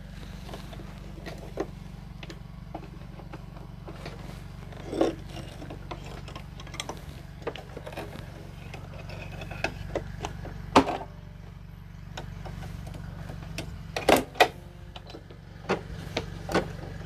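A Brother SE1900 embroidery machine stitches out a bearded dragon design, a steady low mechanical hum with a rapid ticking needle rhythm and a few sharper clicks, heard at moderate distance.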